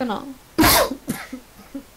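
A single short cough bursts out between quiet German conversation during a Stardew Valley session.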